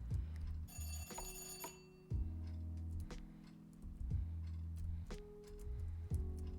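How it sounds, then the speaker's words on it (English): Telephone ringing in the video game The Cleaner, a brief multi-tone electronic ring near the start among repeated low ticking and clunking game sounds, fairly close and with no talk. "The phone was just ringing."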